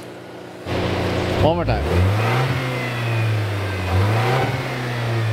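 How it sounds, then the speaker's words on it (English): The 2.4-liter turbocharged inline-four of a 2024 Toyota Tacoma is revved close by: a sharp rise and fall, then a steady elevated drone with a second swell. Someone speaks briefly. "Can you hear the turbos from the front?"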